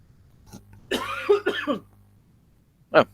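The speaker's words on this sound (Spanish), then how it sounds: "Ando con un poco de tos, parece." Dry cough with throat clearing from a man presenting a book on reptiles of Buenos Aires province: a short single hack, then a rough two-part clearing burst, and one more cough near the end, close and clear over quiet room hum.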